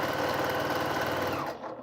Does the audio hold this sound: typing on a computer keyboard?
no